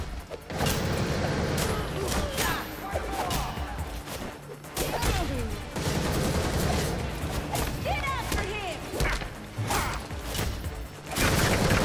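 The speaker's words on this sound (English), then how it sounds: "these guns are so annoying" Gunfire and crashing impacts from a bank robbery fight in the video game Gotham Knights, with busy bursts of shots and smashes running continuously under excited talk.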